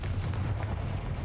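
The Confringo fire spell in Hogwarts Legacy fires off as a short, loud, dense blast with a crackling burst, heard alone.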